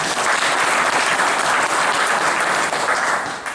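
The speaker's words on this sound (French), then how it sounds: "Donc, on peut l'applaudir." A dense, steady round of loud applause from an audience for a champion working dog at a brevet trial at Saint Clair, sustained throughout and easing slightly at the end.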